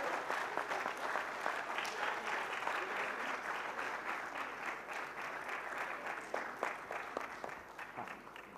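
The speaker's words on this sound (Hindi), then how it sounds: "तालियों में कुछ कंजूसी की दिक्कत है क्या आप लोगों को भाई?" Sustained audience applause fills a hall at a corporate awards ceremony, steady and dense throughout with no break, a faint voice or two just audible beneath the clapping.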